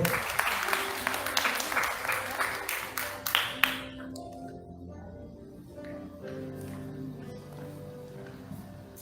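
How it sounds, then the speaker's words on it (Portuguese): A church congregation at a Methodist Sunday morning service claps in a short burst of applause lasting a few seconds. It fades into soft organ-like tones with someone speaking quietly. "Você pode aplaudir ao Senhor?"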